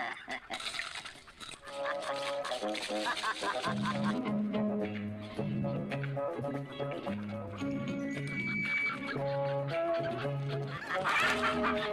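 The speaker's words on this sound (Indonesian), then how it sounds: "ia melihat banyaknya ayam milik salah seorang warga di desa itu" Chickens belonging to a villager cluck and squawk in a busy flock, layered over music and other film sound, with voices talking at times.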